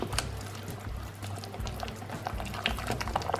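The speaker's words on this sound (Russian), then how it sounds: "Перемешиваю." A spoon stirs thick sour cream with a teaspoon of vanilla extract in a bowl, giving close, wet squelching and clicking sounds in an uneven rhythm, with no talk.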